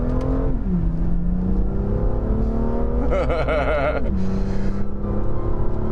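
A BMW M2 with a DCT gearbox revs hard, engine note climbing and dropping, with a sharp blip of high revs midway, loud and close, no talk.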